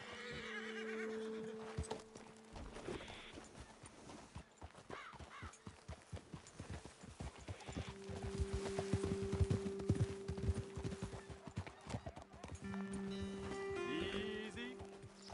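Horse hooves clip-clop in Red Dead Redemption 2, a steady walking rhythm on the ground with occasional snorts, while characters talk over it in quiet game dialogue.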